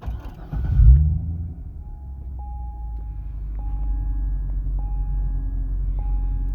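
A 2010 C6 Corvette engine cranks and catches with a brief rising roar, then settles into a steady low idle rumble, with faint intermittent beeping tones over it.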